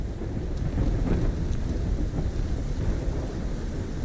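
Howling storm wind with low rumbling thunder in the Call of Duty Black Ops 3 mission In Darkness, a steady loud roar of gusting air and deep rolling booms filling the whole stretch with no speech.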